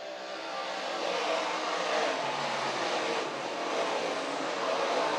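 Modified race cars roar off together at the start of a feature race at Can Am Speedway, a loud, sustained blended engine howl that swells slightly as the pack passes.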